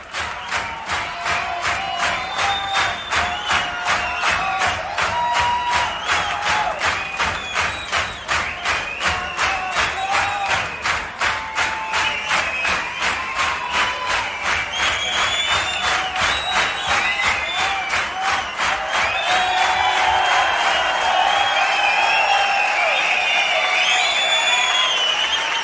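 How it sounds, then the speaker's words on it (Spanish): A concert audience gives a rock band a long ovation: dense sustained applause with rhythmic pulses and cheers, loud and unbroken for over twenty seconds. "vaya ovación se han llevado"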